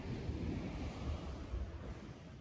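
Calm ocean waves wash steadily onto a hotel beachfront in Casiguran, Aurora, a continuous soft roar of surf mixed with wind buffeting the microphone, with no voices.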